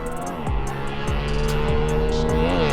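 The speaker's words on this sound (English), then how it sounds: "You can hear the cars and bikes going ham in the background." Engines of cars and motorbikes wail through repeated gear shifts during practice runs at a drag racing and drifting event in India, a loud, sustained harmonic drone that steps up in pitch several times with a crowd-like wash behind it.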